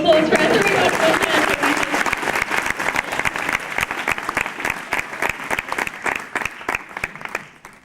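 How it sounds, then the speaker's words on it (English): A crowd claps steadily in a dense burst of applause on a studio backlot tour at Movie World in 1996, gradually thinning out and fading toward the end. "How about a big round of applause for our 3 wonderful sound technicians?"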